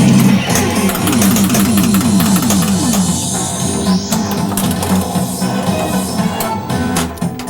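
A new Stern Ghostbusters pinball machine plays loud, bass-heavy game sounds and music, a dense continuous roar with rhythmic pulses, close and without clear talk.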